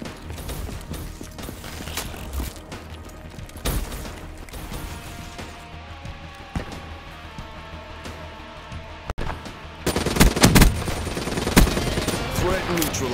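Rapid automatic gunfire from a Call of Duty match rattles in bursts across the scene, mixed with game effects and explosions, louder toward the end.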